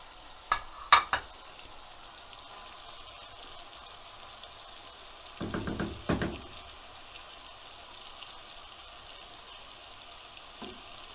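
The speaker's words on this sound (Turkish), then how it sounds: "soğan ve kıymamız yavaş yavaş sabırla kavurarak e, karıştıracağız" Onions and minced meat fry in a pan for stuffed köfte, a faint low sizzle broken by two short clusters of scraping stirs near the start and around the middle.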